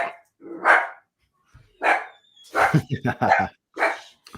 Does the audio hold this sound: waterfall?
no